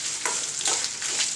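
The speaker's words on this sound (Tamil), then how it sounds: "மிளகாய் எல்லாத்தையும் வந்து போட்டு நம்ம வதக்கிக்கலாம்" Onions and green chilies sautéing in a pan: a continuous close sizzle with two or three soft stirring swishes, no voices.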